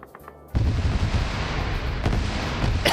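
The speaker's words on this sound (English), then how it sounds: "RPG fired. Just short of that vehicle" RPG rocket fired and exploding short of a vehicle in a PvP shooter game, a sudden loud blast erupting after a quiet moment and rumbling on with further booms and crackles.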